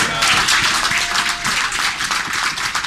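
A church congregation breaks into loud, steady applause, many hands clapping together in a dense, close wash for a few seconds.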